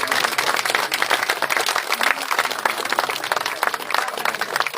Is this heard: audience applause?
yes